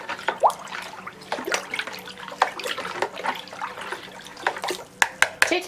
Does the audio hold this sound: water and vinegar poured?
yes